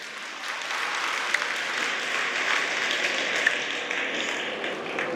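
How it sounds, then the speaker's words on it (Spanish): Sustained applause from an audience welcoming a speaker, a steady wash of many hands clapping at even loudness for several seconds. "Lo recibimos con un caluroso aplauso,"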